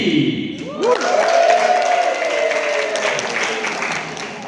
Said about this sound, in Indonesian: Mari sambut dengan tepuk tangan Siti.